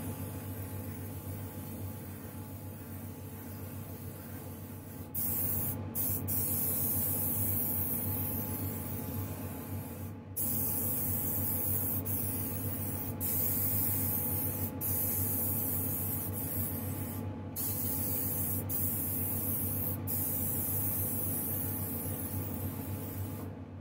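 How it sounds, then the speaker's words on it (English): Lacquer primer hisses from a spray can onto a glossy model surface in several steady bursts of a few seconds each, separated by brief pauses, close and fairly loud over a faint background hum. "I feel better hitting this with a lacquer primer first"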